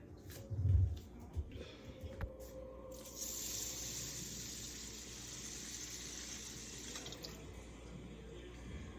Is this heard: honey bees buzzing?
no